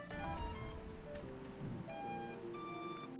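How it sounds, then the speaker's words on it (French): Electronic beeps and short melodic tone sequences from a racing drone's flight controller and ESCs chime out in bursts as the battery is connected, with a pause in the middle before more beeping resumes. "On entend les fameux bips de la FC et des ESC"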